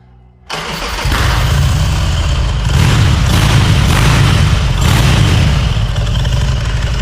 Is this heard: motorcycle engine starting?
yes